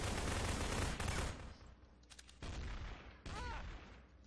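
Bursts of gunfire in a Garry's Mod Trouble in Terrorist Town match, a loud rapid volley followed by quieter gaps and two more sharp barrages, with no talking.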